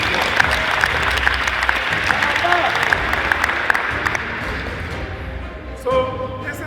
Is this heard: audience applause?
yes